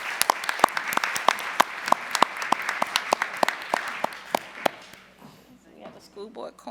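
A school board meeting audience applauds an honoree with a run of sharp, distinct claps from a small group, close and fairly loud, that thins out and stops near the end, leaving faint room noise.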